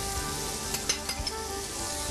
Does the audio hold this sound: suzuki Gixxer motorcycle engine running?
no